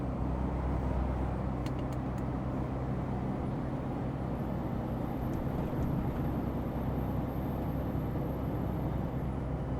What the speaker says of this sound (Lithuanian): Srautas mašinų tai neblogas